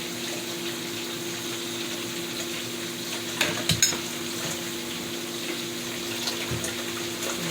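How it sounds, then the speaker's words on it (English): Dishes are washed with a sponge under a running kitchen tap. Water pours steadily throughout, with a few brief clinks and knocks of dishware near the middle and no speech. "I have a sponge in my dishwashing while I'm washing my dishes"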